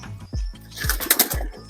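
Pigeons coo close by in three low, rising calls, with a burst of flapping wings in between, all short and near.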